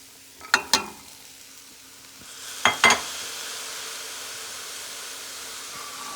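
Peas added to sizzling lamb and rice in a pot and stirred, a steady frying hiss underneath with two pairs of sharp spoon scrapes or clanks against the pot, the hiss swelling slightly after the second pair.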